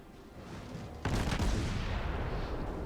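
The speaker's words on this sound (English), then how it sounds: "See how well those shots go out." In World of Warships, the Mogami cruiser fires a salvo from its naval guns, heard as a sudden booming blast that settles into a sustained, dense rumble, no voices over it.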